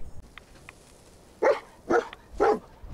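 Dogmeat, the dog companion in the video game Fallout 4, barks three times in quick succession, moderately loud over a quiet game background with faint earlier yips.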